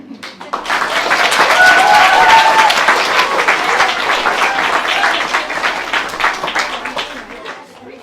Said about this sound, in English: Let's give Harrison, Keshni and Luca a big round of applause.